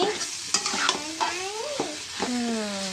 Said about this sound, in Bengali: এখন মাংসটা দিয়ে দিচ্ছি।